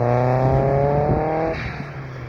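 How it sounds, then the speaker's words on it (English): A car with a big turbo, a Cadillac, accelerating hard as heard from outside, its engine note rising loud and steady with a strong harmonic drone before easing off after about a second and a half. "I get to hear my car from the outside"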